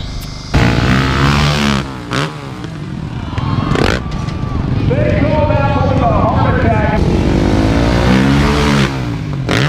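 Engines rev and roar at an ATV Big Air freestyle motocross show in Maquoketa, with loud repeated throttle swells and rising whines over a busy crowd, voices talking beneath.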